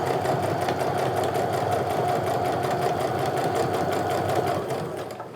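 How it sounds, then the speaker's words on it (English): A sewing machine stitching along the edges of a fabric sling bag: a loud, close, fast steady mechanical whirring and rapid needle chatter running continuously, easing off at the very end. "So I'm just go ahead and sew along those edges."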